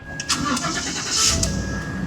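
A Ford F-150's engine cranks and catches in a short, loud burst of rapid starter chatter followed by a rising rumble, close by, with no talking.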